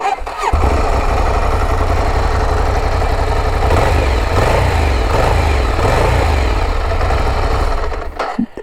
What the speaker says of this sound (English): Let me just turn on this L-twin and make you hear the exhaust sound.